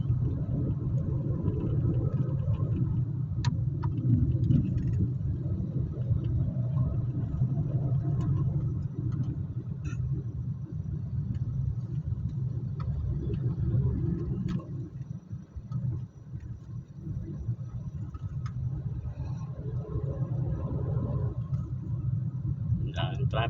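Road traffic on a drive through Arayat, Pampanga toward Nueva Ecija forms a continuous low, close rumble from inside a moving vehicle, with faint ticking and people talking over it.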